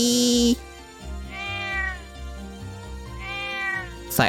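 Two clear cat meows in the video game Trails of Cold Steel, each a rising then falling cry, spaced about two seconds apart over a low looping game soundtrack, with a short synth tone at the start.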